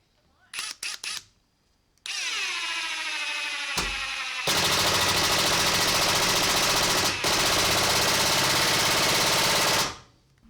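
A Ryobi 18V cordless impact driver drives screws on its lowest setting. Short bursts are followed by a long, loud, rapid hammering rattle that runs steadily for several seconds and then stops abruptly.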